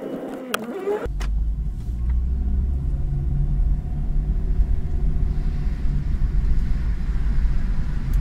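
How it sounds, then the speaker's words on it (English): A Honda Insight is driving on the road, heard from inside as a steady, loud low rumble of road and engine noise that starts after a short click and stays constant. "we're gonna go for a drive"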